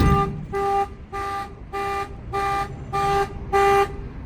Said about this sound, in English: the alarm will trigger